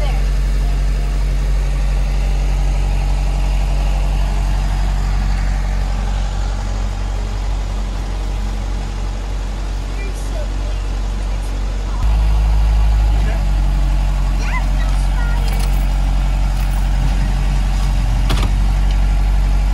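A car sits with its engine idling on a river ferry crossing slowly at Mammoth Cave National Park, a steady low engine drone throughout, with a louder shift about two-thirds in and voices talking over it.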